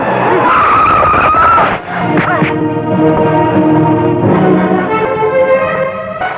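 A film scene's car skids hard with a long, loud tire squeal, then engine and street noise carry on with faint voices mixed into the din.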